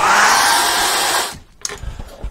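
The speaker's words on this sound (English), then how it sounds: "I'm going to dry that off with a hairdryer" A hairdryer blows steadily on wet acrylic paint for just over a second, a loud broadband whoosh, then cuts off, leaving a few small clicks and handling knocks.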